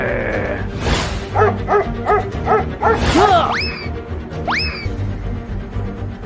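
A dog yips and barks in a quick series of short, sharp calls, then lets out a couple of higher whining cries over steady background noise.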